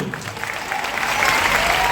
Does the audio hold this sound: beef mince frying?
no